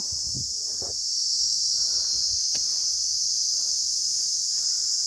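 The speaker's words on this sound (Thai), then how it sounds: "ได้ยินแต่เสียงแมงอีกับแมงจักจั่นพี่น้องเอ้ย" A steady, dense high-pitched drone of cicadas and insects fills the air without pause, with a few faint rustles and distant knocks below.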